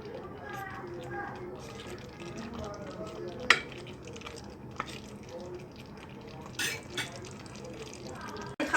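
Lemon pepper chicken being stirred in a pan with lemon juice and cornflour, giving soft scraping and bubbling sounds with a few sharp utensil clinks, under quiet talking.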